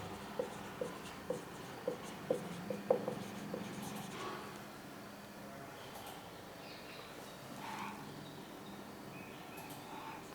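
A pen writes out a trigonometry solution on paper in a quiet room, giving a row of soft, regular tapping strokes followed by faint scratching and rustling, close and alone.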